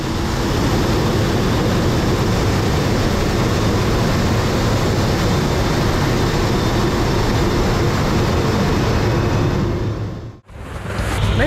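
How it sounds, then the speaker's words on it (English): Steady loud roar inside the cabin of a Boeing 737 climbing after takeoff, a dense broadband engine and airflow rumble holding for about ten seconds before a brief cut, with landing gear retracting beneath it. "Time to check out how they retract the landing gear after takeoff."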